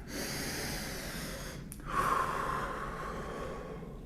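Someone breathes deeply during a yoga chest stretch, a close, airy inhale that swells midway and then eases out, heard alone in a quiet room.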